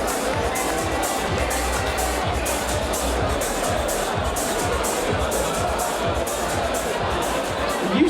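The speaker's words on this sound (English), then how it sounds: "Let's have a round of applause," A crowd around a boxing ring claps and cheers to welcome a guest into the ring, a steady roar of applause and chatter filling the hall at moderate volume.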